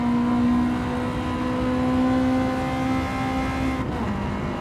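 Honda VTEC car engine revving hard on the Nurburgring, a sustained high whining howl held steady, then a quick shift drops the pitch near the end, loud and close with no speech.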